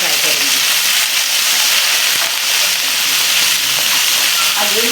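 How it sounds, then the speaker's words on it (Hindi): Cauliflower pieces fry on a medium flame in hot oil left over from frying potatoes, a loud, continuous, close sizzling hiss without pause. "अब मैंने फ्लेम को अगेन मीडियम कर दिया और अब अपनी गोभी फ्राई करूँगी"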